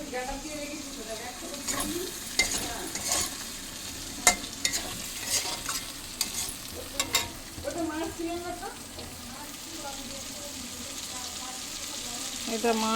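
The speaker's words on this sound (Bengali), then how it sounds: "মাছের তেলে পেঁয়াজ দিয়ে দিয়েছি পেঁয়াজটা এখন নুন দিয়ে ভাজবো" Onions fry with salt in leftover fish oil in a pan. A steady, moderate sizzle runs throughout, broken by scraping stirs and spoon clicks, with a voice faintly present.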